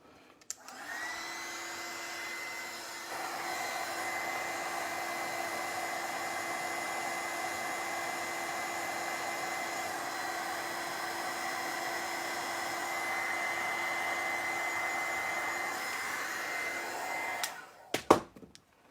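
A hair dryer blowing on wet paint on a patina craft project, switching on and holding a steady whirring roar for about seventeen seconds before clicking off and being set down.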